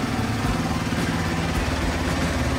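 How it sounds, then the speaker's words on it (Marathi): A motorcycle engine idling steadily up close just after a morning cold start, a continuous low throbbing drone with a regular pulse and no talk over it. "मॉर्निंगचा कोल्ड स्टार्ट"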